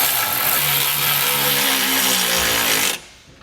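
A power tool loudly drives 13 millimeter trailer hitch bolts on a 2019 Fiat 500, giving a continuous whirring buzz that rises slightly in pitch before cutting off sharply just before the end.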